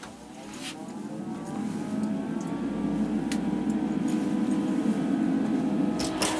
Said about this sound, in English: we'll go over to the ventilation system here, and I'll turn it on